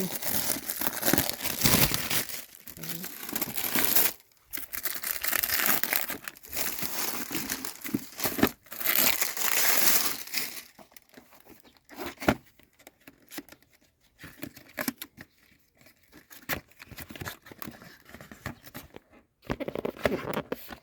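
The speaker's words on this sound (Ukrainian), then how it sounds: "Приходить герметично запакований. Зараз я відкрию." Sealed plastic packaging of a Vorel 66400 40-piece bit set being opened, with close, loud crinkling and tearing that is dense for the first ten seconds, then thins into sporadic rustles and crackles.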